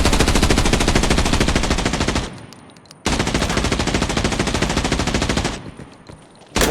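Long, rapid bursts of automatic rifle fire in the shooter Arena Breakout Infinite, loud and close, with two sustained strings of shots broken by a short pause and a final burst starting at the end.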